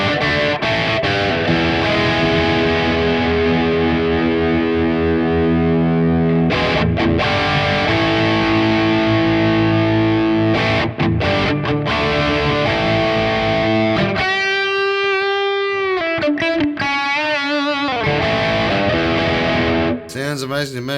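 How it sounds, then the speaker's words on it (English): An electric guitar runs through the Sonicake Matribox's Flyman B+1 amp model, based on a Brown Eye UK-style boutique head, giving thick, crunchy distorted chords and riffs, then a stretch of sustained, singing lead notes with bends, loud and close. "the Flyman B+1. This is based on the famous Brown Eye UK style boutique amp head."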